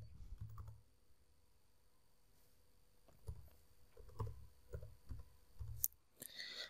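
Quiet keystrokes on a computer keyboard come in short bursts and scattered single taps, with a brief pause in the middle and a few sharper clicks near the end, close but soft.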